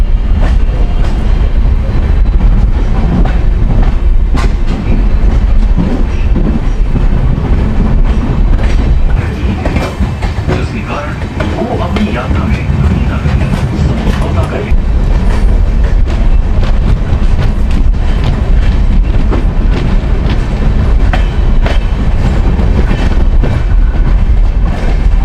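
Ramayan Express, an Indian luxury tourist train, running on rails with a loud, steady rumble and continuous rhythmic clickety-clack of wheels over track joints, close and unbroken throughout.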